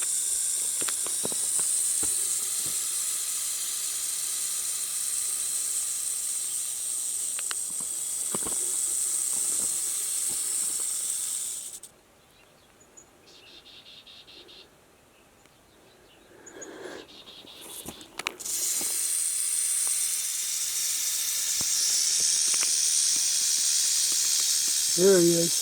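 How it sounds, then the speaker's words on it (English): A rattlesnake rattles on a mountain hiking trail near Las Vegas, a steady close high-pitched buzzing hiss that runs almost continuously, cutting out briefly partway through before resuming just as loud. "Hear the snake?"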